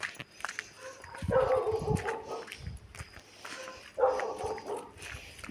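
A dog makes low huffing, sputtering bark-like sounds in two short bursts, close by, with faint background noise between.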